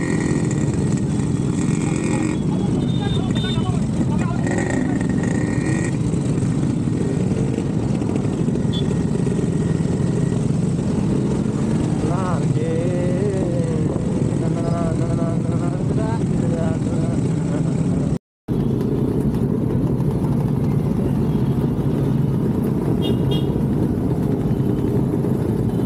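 Vintage cars and motorcycles at a 2024 rally in Kolhapur: a steady engine rumble and crowd noise, with brief tonal horn blasts partway through and a voice talking over it.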